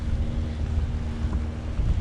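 A boat heading back from Green Island near Cairns drones with a steady low engine hum under constant wind rush against the microphone, loud and unbroken throughout.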